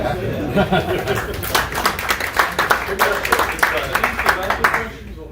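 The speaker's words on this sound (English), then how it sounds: "You can applaud if you like the question." Audience applause in a meeting hall, a burst of clapping with scattered laughter and chatter, fairly near and steady for several seconds before cutting off.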